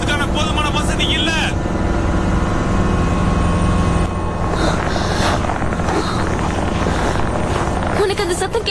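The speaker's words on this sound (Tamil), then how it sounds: "ஆமா, அது ஹெலிகாப்டர் தான்." A helicopter in a Tamil-dubbed Hollywood film scene gives off a steady, loud broadband roar that fills the whole stretch, with voices speaking over it.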